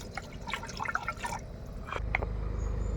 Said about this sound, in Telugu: సో ఇప్పుడు మనం 6 గ్లాసులు వాటర్ వేసుకుందాము.